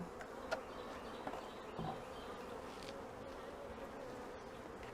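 Honey bees working inside a hive over new comb frames, a soft continuous buzzing drone with a few faint knocks, heard close but at low volume.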